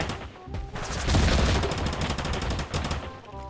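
Rapid, dense gunfire in Totally Accurate Battlegrounds, a steady burst of shots running loud and close for the whole stretch, with no talk over it.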